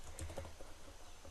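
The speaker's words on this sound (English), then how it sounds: "I'm going to type Jason's laser tag party" Computer keyboard being typed on to enter a party invitation heading in Canva, a short run of soft, close key taps with faint room noise and no talk.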